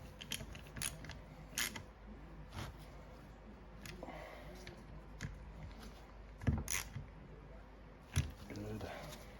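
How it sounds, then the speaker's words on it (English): Small ratchet socket wrench turning bolts on the water pump of a 1996 Suzuki RM250 during seal installation, giving faint, quiet clicks in short bursts, with someone talking at times. "A little socket wrench like this, and all you do is just little turns like that."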